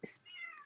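A cat meows to be let into a room: one short, close meow that trails off, heard alone in a quiet indoor space.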